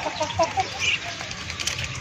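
Chickens cluck close by in short bursts while chickens and ducks peck and bustle around eating banana, with a faint bit of background noise.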